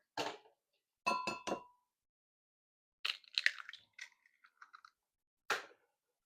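Eggs set into a bowl in a home kitchen, heard as a few separate light clinks and taps against the bowl, close and quiet, spaced out with short silences between them.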